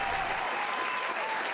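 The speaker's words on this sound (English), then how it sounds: "can we get a round of applause" Steady, full applause from a crowd, dense clapping that holds at an even loudness throughout.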